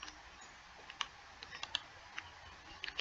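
A computer keyboard clicks quietly as a patient name is typed, giving a few scattered, irregular keystrokes heard close up in a quiet room with no voices.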